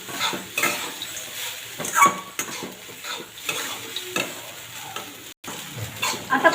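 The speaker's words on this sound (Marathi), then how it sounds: "थोडेसे चवीपुरते मीठ आणि थोडीशी कोथिंबीर आणि पुन्हा एकदा ते पोहे पुन्हा परतून घेऊया" Poha is stir-fried in a pan with salt and coriander, with scraping stirs and clinks of a spoon against the pan over a low sizzle, and no talking.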